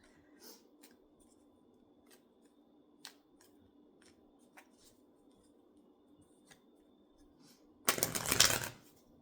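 A deck of tarot cards is riffled in one quick, loud burst of shuffling near the end, after several seconds of quiet room tone with a few faint taps and rustles.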